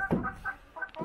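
Chickens and a rooster clucking in a coop, a few close, short clucks and calls in quick succession.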